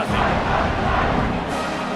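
Stadium crowd cheers loudly after a score in EA Sports College Football 26 at Eugene, a dense, steady roar of many voices filling the whole stretch, close and sustained.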